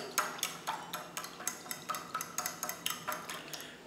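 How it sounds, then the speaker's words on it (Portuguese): A utensil stirs a gelatin mixture in a bowl, beating as if whisking eggs, with quick regular clinks and scrapes against the bowl, light and close. "E agora é só misturar, galera. Só misturar. Ó, misturar bem, ó."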